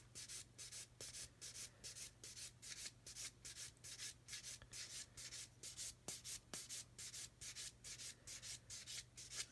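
A sanding sponge rubbing Mr. Surfacer off a plastic model kit seam in quick back-and-forth strokes, a soft rhythmic scratchy swishing, close and quiet, continuing steadily with no voices.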